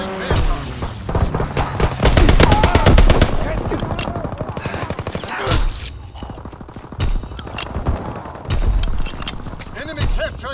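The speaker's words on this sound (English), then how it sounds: "Fighter pilot inbound, strafing the target." A fighter plane's strafing run in Call of Duty WWII, set in the 1944 Shipment map during a domination match, fires rapid machine-gun bursts that rattle loud and dense, then break into scattered shots and impacts, with game voice callouts over the top.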